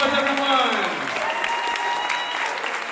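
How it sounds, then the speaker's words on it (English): Audience applause fills the room after an evening school international day show with student performances, a dense, steady wash of clapping lasting throughout, with some voices mixed in. "Give them a round of applause, everyone."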